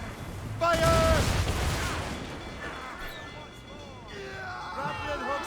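Cannon or gunfire volley in the Assassin's Creed Rogue video game, a loud burst of booming shots with crashing debris and shouting voices, followed by a rumbling background din and more distant calls.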